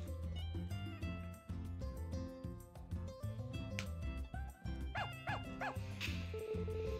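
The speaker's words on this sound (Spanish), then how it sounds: "parece que hay un par de perros callejeros que viven aquí" A couple of stray dogs yip in a quick run of three short barks in the farming game Story of Seasons: A Wonderful Life, layered over steady background music.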